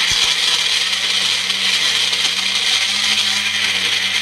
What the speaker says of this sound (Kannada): ಇದನ್ನ ನುಣ್ಣಗೆ ಗ್ರೈಂಡ್ ಮಾಡ್ಕೊಬೇಕಾಗತ್ತೆ.